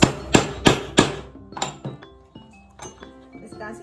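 A hammer strikes a metal rivet being set on a fabric Ankara belt: four sharp, evenly spaced blows, then lighter clinking taps and handling noise, close and loud.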